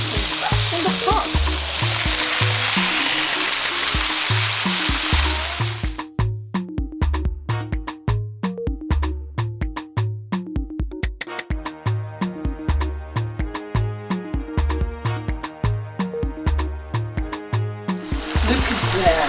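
Beef and vegetable stir fry sizzling loudly in a pot, a steady hiss of frying broken by rhythmic scraping and stirring strokes, close and continuous throughout.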